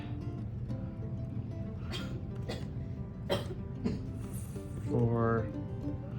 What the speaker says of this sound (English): If you guys are hearing coughing, it's my daughter.